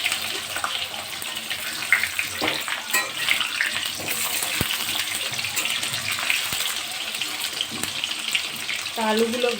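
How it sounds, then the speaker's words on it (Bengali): Potatoes fry in oil in a wok, making a close, continuous hissing sizzle with occasional bubbling crackles and a few stirring knocks, without clear speech. "আলুগুলো ভাজতে থাকি।"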